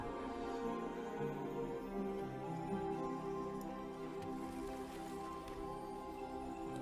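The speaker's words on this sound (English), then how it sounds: "We are getting a lot of rain on the East Coast." Rain from the offshoot of a hurricane on the East Coast falls steadily, a faint, continuous patter under a low humming tonal background, with no voices.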